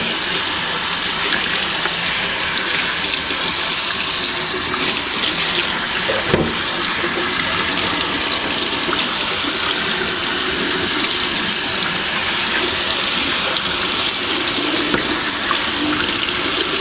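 A video game console part rinsed under a running tap, a steady loud stream of water hissing into a sink without pause and no voices.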